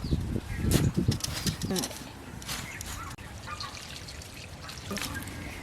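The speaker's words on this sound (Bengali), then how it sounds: "পাতাটা ভালো করে বেছে নিয়েছি, এবার ধুয়ে নেব।" Drumstick (moringa) leaves are swished and rinsed in water, giving splashy pours, trickles and drips that are loudest at first and then fade to softer dribbling.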